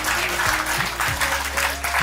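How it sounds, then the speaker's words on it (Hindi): A crowd applauds at a yoga performance event, steady clapping over a low hum and background sound throughout the short stretch. "बहुत बहुत तालियां बजाइए इसके लिए"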